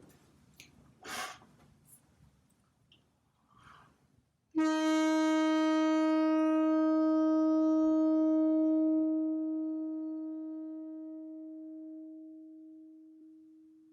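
A single sustained instrumental tone enters sharply after some quiet breathing, holds steady, then slowly fades toward silence.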